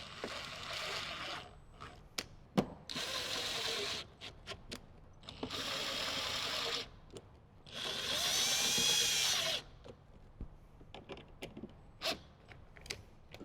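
A power drill drives screws to mount Kicker speakers in a 2007–2014 Jeep JK Wrangler, several whirring bursts of a few seconds each separated by clicks, creaks and ratcheting handling noises, close up.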